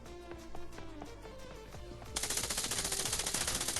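Rapid automatic gunfire in the Scarfall 2.0 mobile shooter on its Mumbai map: loud, dense bursts of shots run through the whole stretch, growing harsher and brighter partway through.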